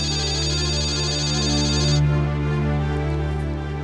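A mobile phone ringing with an incoming call, a loud steady electronic ringtone melody of sustained tones that continues throughout without interruption.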